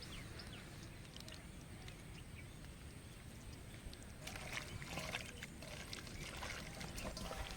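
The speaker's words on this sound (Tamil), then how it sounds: "சுத்தமான நல்லெண்ணெய் ஊற்றிக்கலாம்" Clean sesame oil poured over a watermelon chicken dish in a home kitchen gives a faint, steady trickle that grows slightly fuller midway, with no talk.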